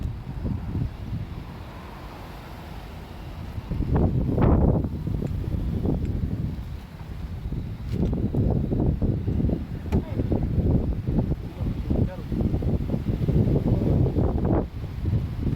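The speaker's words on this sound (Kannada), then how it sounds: "ಸಿಕ್ಕಾಬಟ್ಟೆ ಗಾಳಿ ಇದೆ ಫ್ರೆಂಡ್ಸ್" Strong gusty wind on a beach buffets the microphone in heavy rumbling bursts, rising and falling throughout, with faint voices underneath.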